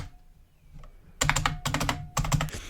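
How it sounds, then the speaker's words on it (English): Someone taps the arrow keys on a computer keyboard in quick clustered bursts of sharp clicks after a quiet start, with a faint electronic tone in the background. "you hear when I'm pressing the arrow keys?"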